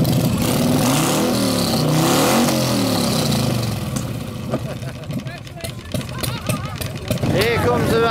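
An old BSA motorcycle at a rally, its engine revving loudly and close by with a rough, throaty drone, then easing off and picking up again while a commentator talks over it.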